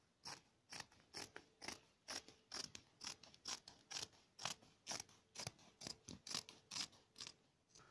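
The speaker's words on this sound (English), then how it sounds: "I am now going to cut along the lines that I have marked" Scissors cutting fabric along marked lines for a cushion sponge bag, a quiet, close series of about twenty crisp snips in a steady, even rhythm with no talking.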